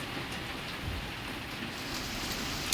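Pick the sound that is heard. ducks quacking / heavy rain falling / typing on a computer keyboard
heavy rain falling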